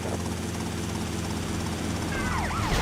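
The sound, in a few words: police helicopter in video game GTA Vice City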